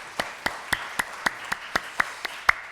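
A church congregation claps at a Sunday morning service, about ten sharp, evenly spaced claps in a steady rhythm, fairly faint and heard from a distance.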